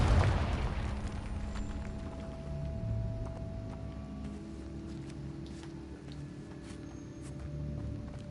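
A Confringo fire-blast spell explodes in Hogwarts Legacy with a heavy low boom at the start, followed by rumbling debris and scattered game effects that fade through the rest of the stretch.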